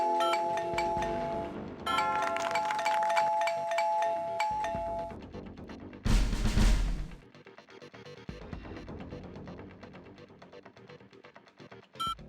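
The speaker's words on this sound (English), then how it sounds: "Why does the resonances sound like a normal doorbell?" Doorbell-like two-tone chime of resonances in the strategy game Outpost 2, ringing out at the start and again around two seconds, amid game music and effects with a loud burst midway.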